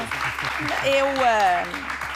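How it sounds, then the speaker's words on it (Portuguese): A crowd claps steadily beneath a voice that speaks and rises in pitch. "A Teresa merece um grande aplauso."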